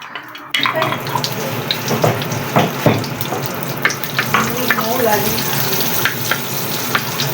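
Butter sizzling in a hot pan at the start of a sauté for milkfish sisig, a steady crackling fry that stays loud and continuous after a sudden onset, with soft stirring clicks and no talk.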